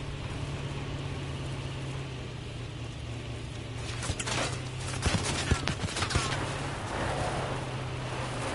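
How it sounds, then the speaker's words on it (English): Distant gunfire in a PS4 shooter game, with bursts of shots fired from far down a hill, heard as scattered sharp cracks in the second half over a steady low background hum. "They shooting from behind us, bro."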